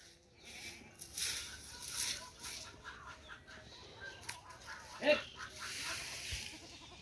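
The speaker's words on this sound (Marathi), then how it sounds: "शेळ्या करडाचं चाललंय" Goats and their kids on a village farm at dawn bleat in faint, scattered calls, with rooster crowing and clucking fowl mixed into a quiet, distant morning soundscape.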